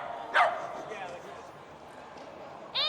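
A dog gives sharp yelps and barks at a busy dog sports event, with one high bark near the start, another at the end, and a faint noisy background between them.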